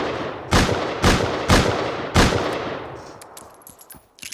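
Four sharp, loud gunshots from the Rust Console Edition video game ring out at an even pace, each with a ringing decay, followed by quieter metallic clinks.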